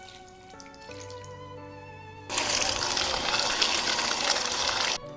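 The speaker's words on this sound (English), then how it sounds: "So I'm gonna add water." Water gushes steadily into a bowl of egusi pudding mixture being thinned to a smooth texture, a loud continuous pour lasting a few seconds after quieter kitchen sounds.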